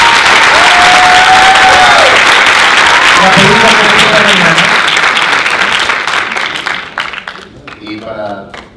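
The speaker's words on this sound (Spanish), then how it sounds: "Se merece otro aplauso grande." Loud audience applause and cheering at a film festival Q&A session, sustained full clapping from a crowd with whistles and shouted voices, tapering off near the end as a voice begins speaking.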